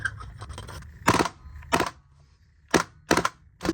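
A shell-ejecting prop AK9 fitted with a suppressor fires five sharp, loud reports in two uneven bursts, each a brief crack with a short tail, over a low background hum.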